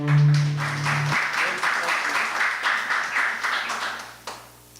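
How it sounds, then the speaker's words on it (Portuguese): A church congregation applauds in praise, with brisk, fairly loud massed clapping that follows a brief held tone at the start and fades out near the end. "Vamos aplaudir a Cristo."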